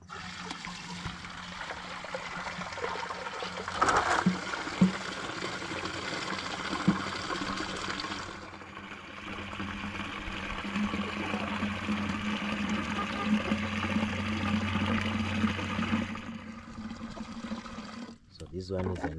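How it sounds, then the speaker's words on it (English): Water trickles and pours steadily for a long stretch, with sloshing as it is stirred, and a voice speaking at times over it. "I add water, then I mix."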